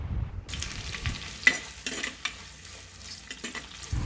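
Green chillies and sliced onion fry in a big pot for mutton biryani, a soft steady sizzle broken by a few sharp clicks and stirring scrapes, with no one talking.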